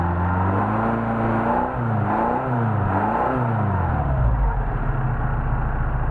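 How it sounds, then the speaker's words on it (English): A Mercedes 190SL engine with freshly tuned carburetors revs up in several rising and falling pulls, then settles into a smooth, steady idle, close by and loud with no voices. "You can rev it up, it goes right back down to a smooth idle."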